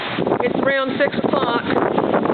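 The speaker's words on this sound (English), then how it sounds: "every now and then we get a good gust of wind, like right about now." Wind gusts during Hurricane Sandy beside a canal with whitecaps, roaring and buffeting the microphone loudly throughout while someone speaks over it.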